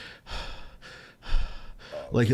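A voice imitates heavy panting, with several loud rhythmic breaths in and out close to the microphone before speech begins.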